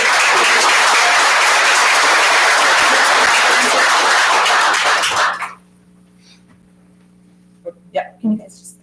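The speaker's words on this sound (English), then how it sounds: "Give them one round of applause." An audience at a school board of education meeting gives a loud, dense round of applause that stops abruptly after about five seconds. A few faint voices and brief sounds follow in the quieted room.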